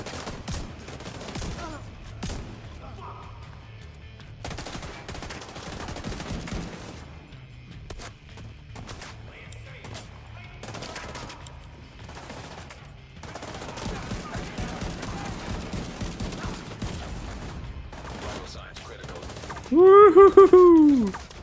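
An automated turret in The Division 2 fires repeated bursts of rapid gunfire that run nearly the whole time, with a loud shouting voice breaking in near the end.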